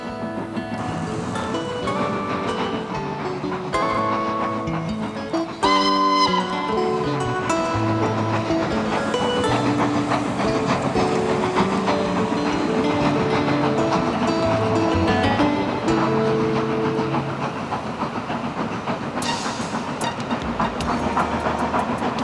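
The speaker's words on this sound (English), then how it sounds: "Passing trains heading for the North Wales coast add to the atmosphere" Trains passing near Conwy on the line toward the North Wales coast, rumbling and clattering with hissing and shifting tones, mixed with other layered sound throughout.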